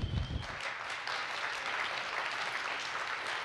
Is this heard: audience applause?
yes